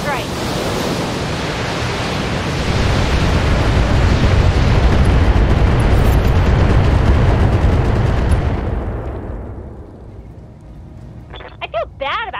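A heavy weapons salvo from a mech's Alpha Strike in the Battletech video game: a dense, roaring barrage of blasts and rumbling fire that holds for about eight seconds, then fades, with a few faint metallic blips after.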